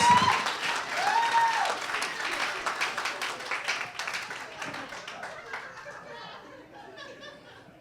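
A comedy show audience claps loudly at first, with some laughter mixed in, and the applause gradually fades and thins toward the end.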